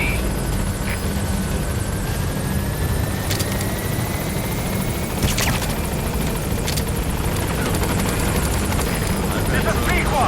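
Helicopter rotor and engine noise in Metal Gear Solid V as the B-Quad chopper approaches a landing zone, a steady broadband drone throughout, with radio voices and game sounds over it.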